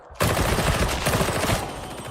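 Rapid automatic gunfire in the Warhammer 40k Darktide video game: a dense, loud, continuous stream of shots bursting in suddenly after a brief quiet moment and rattling on steadily to the end.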